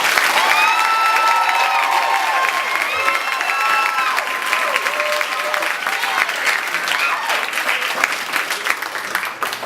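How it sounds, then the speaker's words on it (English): Loud, sustained crowd applause for a graduating class at a graduation ceremony, dense clapping mixed with cheers and whistles filling the room throughout. "give the graduating class of 2015 a round of applause"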